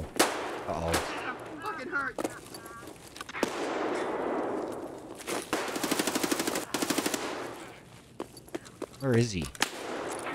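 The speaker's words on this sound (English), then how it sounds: "Actually, just hear a lot of shooting in general." Rapid automatic gunfire rattles through a combat session in Escape from Tarkov with the SPT mod, in long bursts and scattered single shots, some near and some distant, while a player speaks briefly over it.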